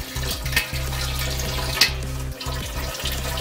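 Liquid drains from a home-brewing pot of grains with a steady running-water flow, accompanied by a low droning hum and a few clunks, with no talking.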